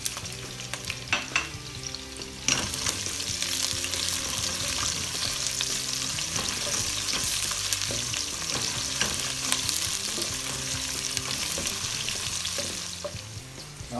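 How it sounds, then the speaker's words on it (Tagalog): Onions sautéing with shrimp in a hot pan for pancit bihon guisado: a steady, close sizzle runs throughout, broken by repeated clatters of stirring. "So, itatambog na natin itong sibuyas."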